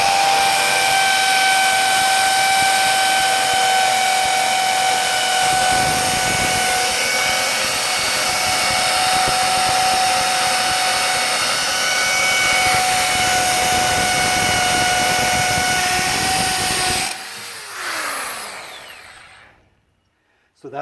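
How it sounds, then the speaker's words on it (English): A power drill whirs loudly and steadily for a long stretch boring into stucco, then cuts off abruptly and winds down to near silence. "So here's how you drill into stucco."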